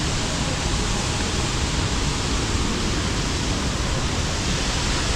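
Waterfall in the wild Balinese jungle, a steady, dense broadband roar of falling water that stays loud and unbroken throughout, with no voices over it.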